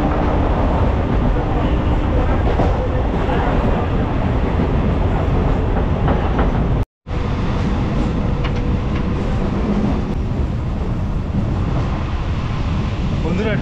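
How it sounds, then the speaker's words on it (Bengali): A passenger train pulls into Tamluk station in West Bengal, its steady loud rumble and clatter of wagons filling the scene, broken by a brief gap, with faint voices present. "ট্রেন এখন এসে ঢুকলো তমলুক স্টেশনে"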